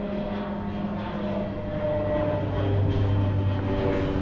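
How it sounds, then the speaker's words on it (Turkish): Small propeller sightseeing plane over the Nazca Lines, heard as a steady droning engine rumble that swells slightly louder toward the end as it passes overhead, with no talk. "Aha bak, hazır uçak geçiyor."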